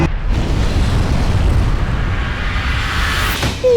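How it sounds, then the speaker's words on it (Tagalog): Taal Volcano in a slight eruption, blasting ash from its crater: a loud, continuous low rumbling roar holds steady throughout, with a brief higher whistle-like tone rising near the end. "Ang Bulkang Taal nagkaroon ng bahagyang pagputok o pagsabog at nagbuga ng abo mula sa bunganga nito"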